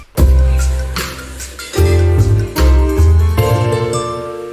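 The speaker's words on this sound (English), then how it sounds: "That key change sounds like this" A key change in an electronic song, played as loud music with heavy bass notes shifting in pitch and bright chordal layers, in several punchy sections.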